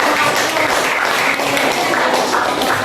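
A class of students applauding together in an open classroom lesson, dense steady clapping from many hands, loud and close, sustained throughout without pause.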